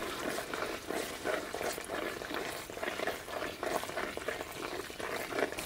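Ash gourd halwa bubbling and sizzling in ghee in a pan, a steady close crackle and spatter running throughout with no talk.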